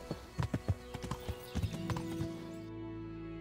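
Horse hooves clip-clopping at a steady riding pace in the medieval game Kingdom Come: Deliverance, crisp distinct strikes that fade out, with no talking.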